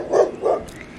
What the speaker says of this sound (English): you are Guru, Cubbon Park's resident dog